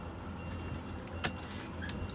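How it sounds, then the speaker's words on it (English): A key slides into the ignition of a truck cab, a brief metallic jangle and click standing out over a quiet idling engine hum with a few small rattles around it. "You put the key in the ignition"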